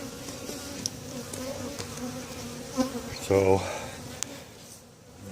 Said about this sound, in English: All the worker bees got to do is clean out that hive and go for it.